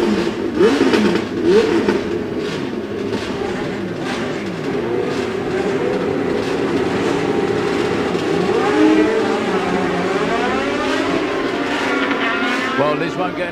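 Outlaw Anglia drag racing cars at a drag strip, engines droning and revving loud throughout, with a public address announcer talking over them.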